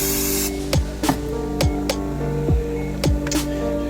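Cooking oil sprays onto taco tortillas in a few short hissing bursts amid soft rhythmic knocks and a low steady hum, with no speech.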